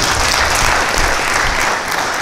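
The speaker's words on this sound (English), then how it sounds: "Please, can you give a round of applause to our panelists?" Applause from a forum audience for a panel of speakers, a dense, steady clapping that stays loud and even throughout.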